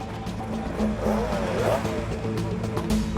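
A racing motorcycle engine at speed on the Isle of Man road course, a loud, sustained high-revving roar with a steady whine that shifts in pitch as it pulls hard, dense and continuous throughout.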